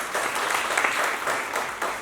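Steady applause from a lecture audience at a talk on heart disease and stroke in women, dense and even for about two seconds with a slight lift near the end.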